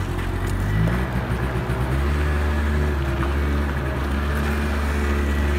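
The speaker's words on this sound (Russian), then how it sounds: "едешь, и вот мотор работает так глухо довольно-таки." A Honda Lead 50 AF48 scooter engine running while riding, a muffled, steady low drone with rising and shifting tones as speed changes, continuous and close throughout.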